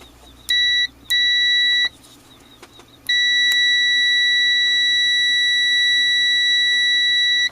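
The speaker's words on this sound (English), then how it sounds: "Let me turn that buzzer off there." A continuity-test buzzer on a Fluke multimeter with test leads, checking a flea-market radio, sounds steady electronic beeps: two short tones, then a long continuous tone lasting several seconds, close and loud.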